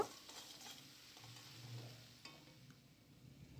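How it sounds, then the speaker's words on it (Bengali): Masala with salt and turmeric frying in a pan for a fish curry while a spoon stirs it: a soft, faint sizzle with light scraping strokes, no voices. "পরিমাণ মতো নুন এবং হলুদ দিয়ে ভালো করে মশলা ফ্রাই করে নেব"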